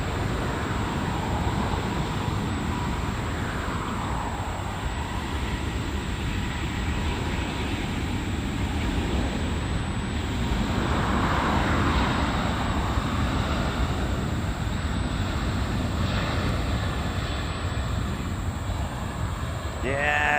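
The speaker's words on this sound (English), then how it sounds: "A380 getting out of here on runway 24 left" An Airbus A380 takes off from runway 24 Left at Los Angeles International Airport, its engines a loud continuous roar that swells through the clip under steady outdoor wind and rumble, with a voice talking over it.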